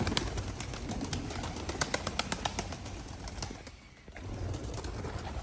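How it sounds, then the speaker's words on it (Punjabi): Pigeons being let loose outdoors fill the air with a steady mix of low cooing and rustling, with a quick run of sharp wing flaps in the middle and a brief lull before the flock noise returns. "ਉਹ ਛੱਡਦੇ ਆ ਕਬੂਤਰ"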